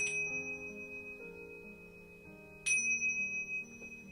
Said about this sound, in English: That one's more of a kind of Buddhist-y bell.